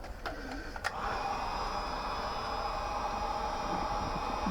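A Team Associated RB model nitro engine runs steadily during break-in, a loud, continuous high-pitched buzz with a few sharp clicks in the first second before the tone settles and holds.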